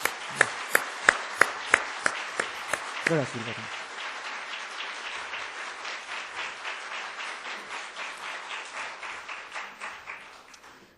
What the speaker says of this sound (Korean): 격려의 박수 한번 해주시기 바랍니다